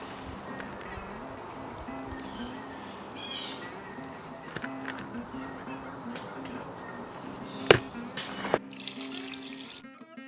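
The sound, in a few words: water running while rinsing agate rocks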